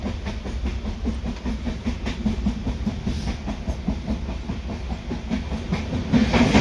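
A moving, nearly empty train rumbles steadily with a rhythmic clickety-clack of wheels on the rails, continuous and fairly close, with no talking.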